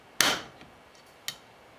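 A hammer strikes a metal punch to make an indentation in steel during a Tec9 pistol overhaul: two sharp, close taps about a second apart, the first louder with a brief ringing tail.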